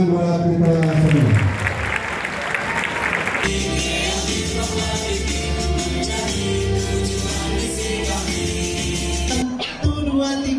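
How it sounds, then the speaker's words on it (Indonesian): An audience at a school leadership training event in Jakarta breaks into applause, a dense, sustained clatter of many hands clapping at close range for several seconds, with voices and shouting mixed in over the top. "Tepuk tangan buat kita semua."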